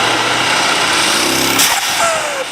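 Mercedes wagon engine fitted with boost intake pipes runs loud and steady on a dyno pull, a buzzing high-pitched drone that holds for a couple of seconds before easing off.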